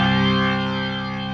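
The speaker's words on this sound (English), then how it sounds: "using the rotary speaker" A sustained organ-like chord swirls with a rotating, wavering shimmer, the pulsing texture slowing slightly as it continues; no voices.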